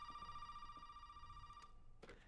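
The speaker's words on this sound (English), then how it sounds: "Oh, there's the phone." A telephone in the video game Resident Evil 7 rings with a steady electronic tone that sounds for about a second and a half before cutting off, fairly quiet.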